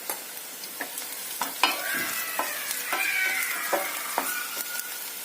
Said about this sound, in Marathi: मिरची आणि कांदा छानसं परतून घ्यायचं